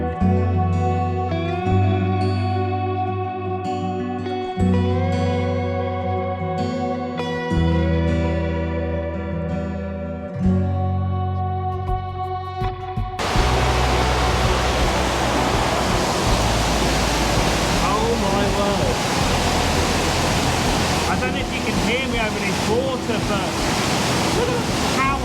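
Powerful rushing water roars through a rocky gorge, a loud, steady broadband wash that takes over abruptly after a stretch of music and continues unbroken and close.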